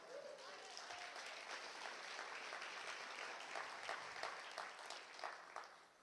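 A church congregation claps together in steady, sustained applause heard from a distance, with faint voices mixed in, fading out toward the end.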